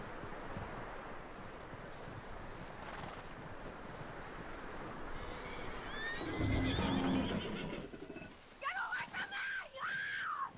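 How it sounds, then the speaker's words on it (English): A horse in the Red Dead Redemption 2 video game, with clip-clop hooves over a windy ambience and then a loud, shrill neigh near the end, alongside in-game voices. "Get that horse hitched. Don't want him bolting."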